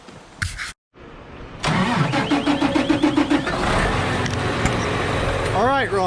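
A small farm tractor's engine cranks and catches after a brief pause, then settles into a steady, loud mid-pitched idle with some clattering. A faint voice is heard near the start.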